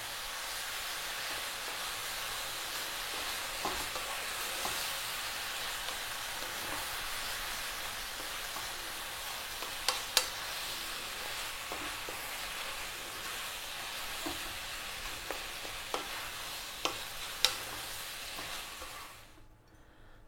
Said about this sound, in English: then add my cooked noodles. I'm going to stay on a high heat about 3 or 4 minutes. Going to really work this together.